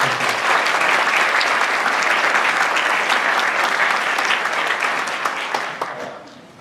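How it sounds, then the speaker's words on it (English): A crowd applauds at a high school awards night with steady, dense clapping that holds for several seconds before starting to fade at the end. "Let's give them another round of applause."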